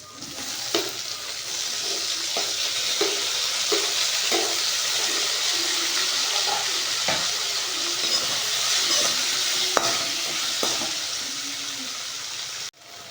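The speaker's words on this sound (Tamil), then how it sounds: "இப்போது வெங்காயம் நல்லா வதங்கிட்டு இதில் நம்ம தக்காளி ஆட் பண்ணிக்கலாம்." Onions and tomatoes fry in a pan with a steady close sizzle, broken by scattered scrapes and taps of a spatula stirring them, continuous for several seconds without any voices.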